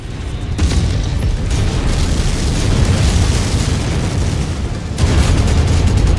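A mech's reactor explodes in the MechWarrior 5: Mercenaries video game, a loud sustained roaring blast that fills the whole stretch, with a brief dip and then a fresh surge near the end.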